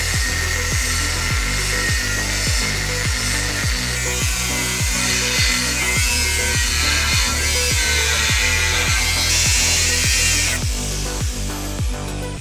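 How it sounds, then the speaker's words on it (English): An angle grinder cuts through an FJ's steel chassis, making a loud continuous high-pitched grinding whine with rhythmic pulsing, close up and uninterrupted. "with that final angle grinder cut, the new chassis was revealed"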